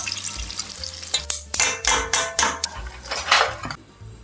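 Dried pollack crackles as it deep-fries in hot oil while a utensil scrapes and clatters against the pan in repeated bursts, with no talking.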